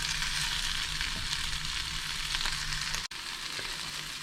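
Swiss chard wilts in a hot pan with a steady, dense sizzle close by, a brief dropout near the end, and no talking.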